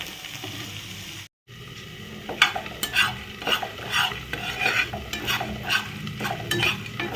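Whole spices for garam masala are stirred as they dry-roast in a pan, giving a steady scraping, rattling swish of repeated strokes, close and fairly loud, broken by one brief dropout early on.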